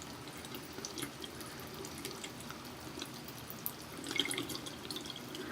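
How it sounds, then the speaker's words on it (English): Water runs steadily from opened sink faucets inside a house, a faint, even hiss that continues without a break and with no voices. "We've opened up all the faucets."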